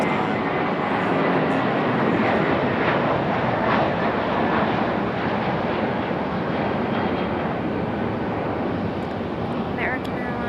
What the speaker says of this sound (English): American Airlines 1897 and Airbus A321 to DC2